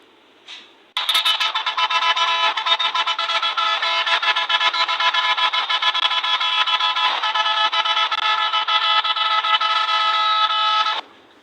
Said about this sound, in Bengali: এটি হচ্ছে হর্ন